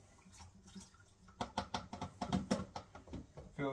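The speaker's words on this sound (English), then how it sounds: "Fill it up with a bit of water" Tap water runs into a pot used for macaroni, a quiet stretch followed by uneven splashing and knocking as the stream hits the pot.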